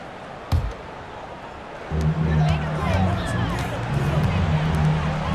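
Basketball video game crowd in a Sonics versus Knicks match swells into a loud, steady roar of cheering after a brief thump, with commentary voices over the top.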